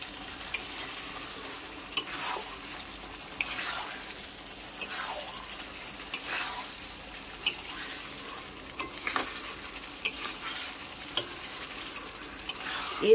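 Mutton and sugar in a frying pan, stirred with repeated scraping strokes over a steady sizzle, with sharp clinks at regular intervals and no talk.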